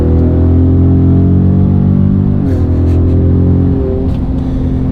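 Ford F-150 Raptor fitted with an AWE exhaust, its deep engine drone loud and steady close by, with faint turbo whistle and a couple of brief shifts in pitch; no talking.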